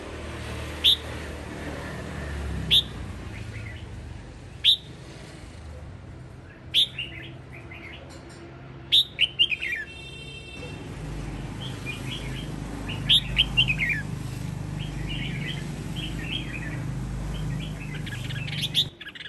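A red-whiskered bulbul sings in short, sharp chirping phrases repeated at irregular intervals, clear and fairly close, over a low steady background hum.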